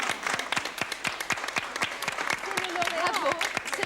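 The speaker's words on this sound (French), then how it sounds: "Il a applaudi." Audience applause at the 1981 Eurovision Song Contest results, steady dense clapping from a large crowd throughout, with a voice speaking over it toward the end.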